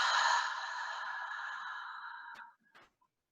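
One long, slow breathy exhale during a guided mindfulness breathing exercise, close and steady, fading out after about two and a half seconds, with a faint breath sound after.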